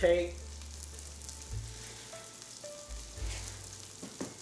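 Onions with mushrooms sizzle softly in a pan, a faint steady frying hiss under a low hum, with a brief clink near the end.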